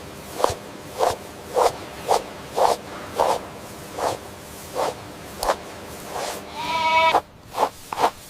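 Goats bleat on a commercial goat farm in a close, repeated series of short calls at a fairly regular pace, with one longer, drawn-out bleat near the end.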